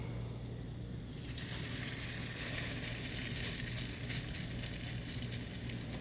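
Hot oil sizzling in a pan as a salmon patty goes in, a quiet hiss that swells into a dense, steady crackling sizzle after the first second, close by with no talking.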